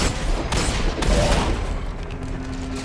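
Gunfire in the Destiny 2 video game, a couple of heavy, close shots followed by a rumbling tail and a low mechanical hum.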